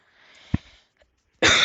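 One sharp cough, then after a short pause a louder, harsher cough burst, both close to the microphone and with no talking.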